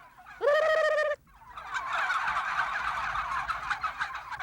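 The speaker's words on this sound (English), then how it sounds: "If you talk turkey, turkeys talk back." Turkeys on a broad range near Cuero, Texas: a loud, close gobble rattles for under a second, then a dense, continuous clamor of many birds gobbling and chattering at once fills the rest.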